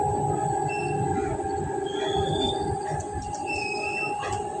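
A Howrah–Delhi–Chandigarh Express train rolling into Chandigarh Junction, with a steady rumble of wheels and carriages and thin high squeals from the wheels on the rails, close and continuous throughout.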